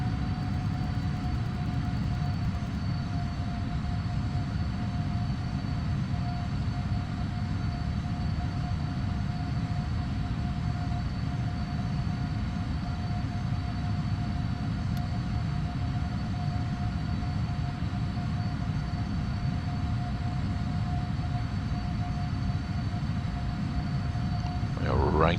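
A PMDG 777 Freighter at light weight taking off in a Prepar3D flight simulator, a steady, loud jet engine roar with a constant whining tone that holds evenly throughout.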